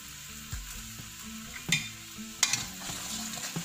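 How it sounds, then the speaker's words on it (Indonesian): Buntil, a taro leaf dish, is stirred as it cooks in a pan, with a quiet steady sizzle and occasional scraping, clattering stirring strokes; no speech. "Kita masak sampai mendidih dulu."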